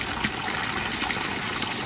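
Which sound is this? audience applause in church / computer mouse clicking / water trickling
water trickling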